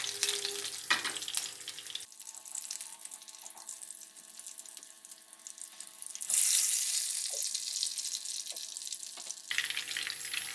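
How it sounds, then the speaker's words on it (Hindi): Sliced onions coated in gram flour batter fry in hot oil, giving a soft, steady sizzle and crackle close by. Bursts of bubbling come up in the middle, and there is no talk. "फिर प्याज़ों को बेसन में फ्राई करेंगे।"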